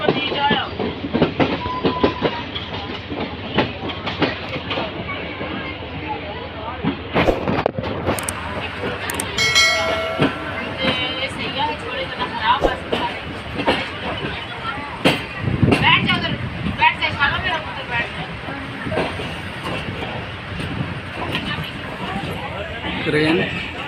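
A Pak Business Express passenger train rolls on rails between Hyderabad and Kotri in Pakistan, a loud continuous rumble with clickety-clack of wheels over joints and occasional squeals, under voices talking inside the carriage.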